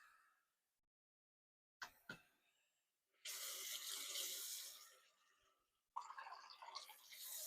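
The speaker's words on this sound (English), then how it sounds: "I'm going to fill up the sink with a little bit of water" A bathroom sink fills from a running tap in two bursts, a loud steady rush of water with a pause and a few clunks between, close by and with no talk.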